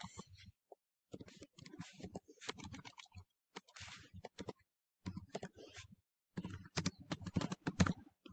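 Typing on a computer keyboard while entering a student's name into a form: bursts of quick, close clicking keystrokes in irregular runs separated by brief pauses.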